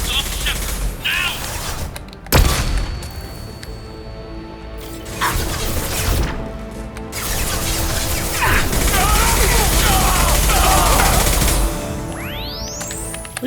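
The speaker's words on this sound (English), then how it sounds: "you guys quit it with the flashbangs" Gunfire and flashbang grenades crack through a Mass Effect 2 firefight, with a sharp bang early on, scattered bursts of shots and clatter, and a ringing, rising whine near the end, while voices talk amid the combat.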